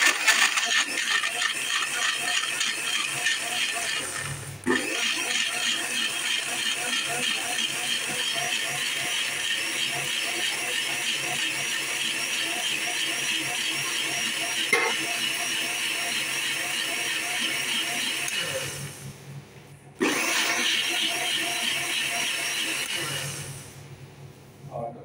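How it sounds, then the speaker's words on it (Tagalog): A kitchen blender whirs steadily as it purées lemon peel with a little water, a loud continuous motor drone with brief pauses and restarts partway through. "i-blender po natin yan guys."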